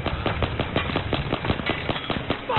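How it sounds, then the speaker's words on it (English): Rapid pistol fire from the video game Battlefield 3, a dense run of sharp cracks in quick succession, loud and close with no talk over it. "I shot him so many fucking times with that pistol"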